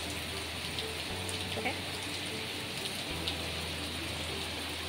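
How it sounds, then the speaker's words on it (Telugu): Steady, dense rain pours down heavily, a continuous hiss with faint low hum underneath and no talking. "వర్షం ఫుల్గా పడుతుందండి. వర్షం అయితే చాలా బాగా పడుతుంది"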